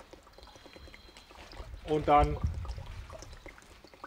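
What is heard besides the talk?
pouring Triaterra aktiv EM liquid and water into a sprayer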